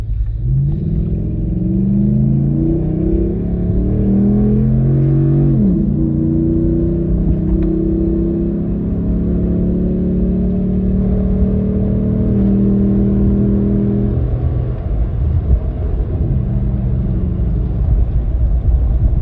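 A Ram 1500 pickup fitted with a K&N cold air intake accelerates, its engine rumbling loudly and rising in pitch through upshifts, then settling into a steady drone, heard from inside the cab.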